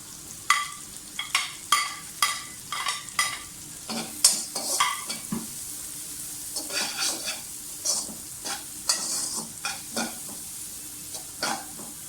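Onions sizzle in a pan for egg fried rice while a spatula stirs and scrapes against the metal in quick irregular strokes, the sharp clinks standing out over a soft steady frying hiss.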